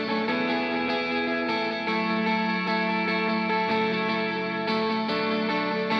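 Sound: Universal Audio Galaxy Tape echo effect on a guitar

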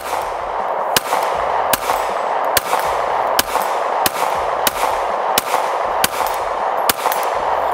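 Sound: Glock pistol with brace being fired

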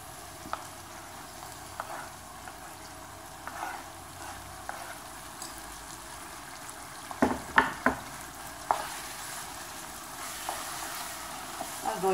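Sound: onions, peppers and tomatoes frying and stirred in pan

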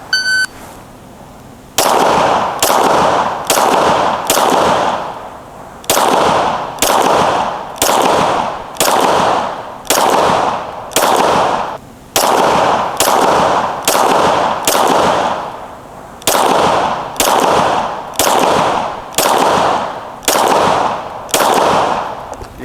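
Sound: SIG Sauer P365 pistol shots fired at 40 yards

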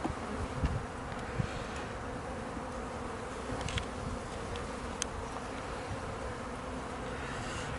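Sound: honey bees buzzing on a hive frame

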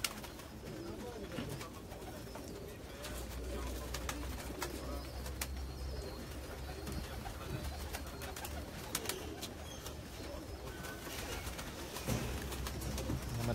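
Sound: pigeons cooing

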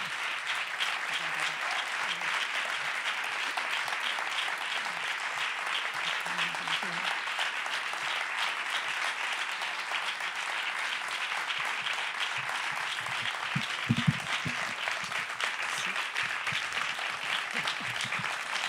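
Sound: audience applause

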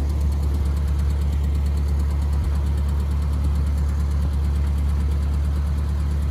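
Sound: 1967 Citroën Tiburón classic car engine running

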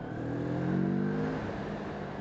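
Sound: Moto Morini 6½ 650cc twin motorcycle accelerating

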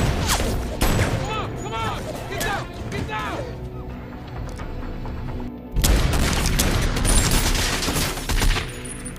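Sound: pistol gunfire in an action film

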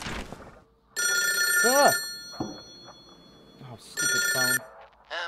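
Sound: phone ringing in video game Lurk In The Dark

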